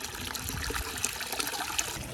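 Clean water trickling and splashing steadily from the outlet of a solar powered pool pond filter, a continuous close-up flow with small gurgles and no talk.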